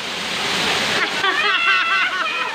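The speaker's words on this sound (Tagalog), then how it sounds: "Yan, ganda ng falls." A waterfall near Dinadiawan Beach pours with a steady broadband rush, and a voice starts talking over it partway through.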